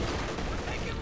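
Machine gun fire in the Company of Heroes 2 video game, a dense continuous rattle of gunfire filling the whole short moment without a break.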